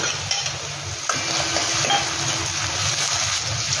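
Finely chopped onion fries in a pan for a whole masoor curry, giving a steady, dense sizzle throughout with light stirring and utensil scrapes on top, close and fairly loud.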